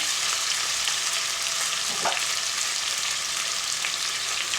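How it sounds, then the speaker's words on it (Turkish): Hot water pouring into a pot of chicken and potatoes that were browned and are now boiling, giving a steady loud sizzle and hiss throughout with a brief gurgle near the middle. "Şimdi bunlar kaynarken biraz Sıcak su koyacağım arkadaşlar üzerine."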